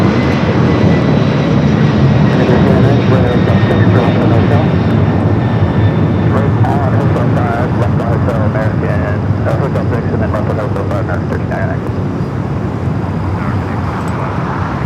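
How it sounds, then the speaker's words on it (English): DHL ABX Air converted Boeing 767 jet at LAX, a loud sustained engine roar and rumble close by, fairly constant throughout with a faint whine on top. "Here's that DHL, ABX Air, converted 767."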